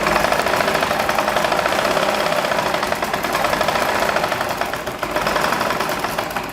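A sewing machine stitching fabric runs in a fast, steady mechanical whir with a rapid needle chatter, close and continuous without pauses.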